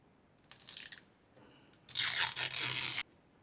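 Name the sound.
peeling off a stripe from a guitar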